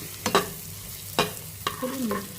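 Boiled eggs fry in a pan, giving a faint sizzle punctuated by three or four sharp scrapes and taps of a spatula against the pan, close up and with no voices.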